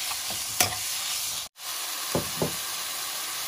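Coarsely minced pork stir-fries in a pan for a pork curry with wild garlic leaves, a steady broad sizzle with a few sharp spatula scrapes and knocks, close and fairly loud, without speech.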